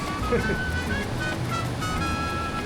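Strong ocean waves break at a beach, making a steady broadband roar with constant wind-like noise. A voice talks over the surf throughout.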